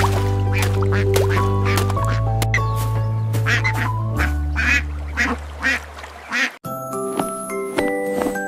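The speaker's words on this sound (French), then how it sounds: "Le canard vient de crier" A cartoonish duck quacks several times over bright, steady children's nursery-rhyme music with tinkling tones, and the quacks sit fairly loud in the mix.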